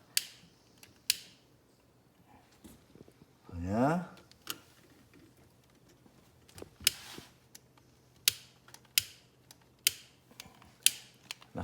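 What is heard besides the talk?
lighter being struck repeatedly to light a masonry stove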